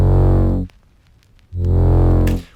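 Two long sustained bass synth notes, heavily processed with soft clipping and drive effects, sound thick and loud, separated by a short gap holding faint echoing ticks.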